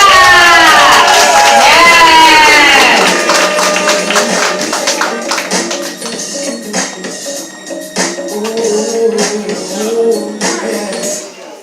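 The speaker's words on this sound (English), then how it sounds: "Come on, clap it up for Medusa." At a live poetry show, the crowd claps and cheers for the poet Medusa. A raised voice is followed by scattered claps, whoops and crowd noise that fill the room.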